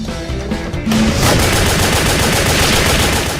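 Rapid bursts of machine gun fire in a video game, a dense, loud, continuous rattle of shots that starts abruptly about a second in and keeps going steadily to the end.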